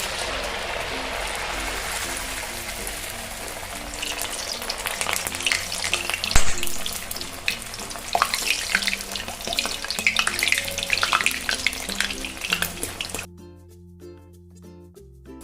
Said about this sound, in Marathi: आता हे वडे आपण तेलात सोडून घेऊया.